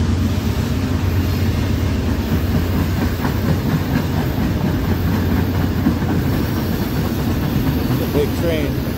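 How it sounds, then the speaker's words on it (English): A big train rolls past close by with a steady heavy rumble and rhythmic clickety-clack of wagons, loud and sustained throughout. "Big train."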